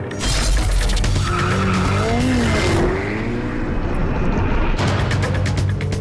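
A Ferrari Pista drifts with a loud, sustained engine roar and screeching tire squeal, heard up close and continuous, with a brief dip in intensity midway.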